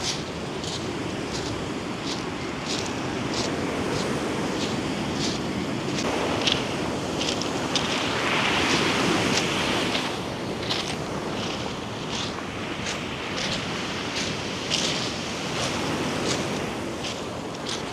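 Rough Black Sea storm waves surging and crashing continuously at Arcadia, Odesa, with gusty wind roaring over the microphone; loud and steady throughout, with no voices.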